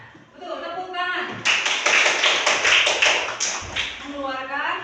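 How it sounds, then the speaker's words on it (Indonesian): A classroom of pupils bursts into rhythmic applause, a dense run of sharp claps that swells quickly and then tapers off, with a teacher talking just before and after. "tepuk tangan"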